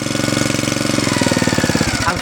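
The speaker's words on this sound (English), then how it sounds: "Speed the engine up." Small petrol engine of a Hyundai HYYW70 wheeled power weeder runs close and loud with a fast, even chugging beat, the throttle opening so the pulsing tightens before a brief change at the end.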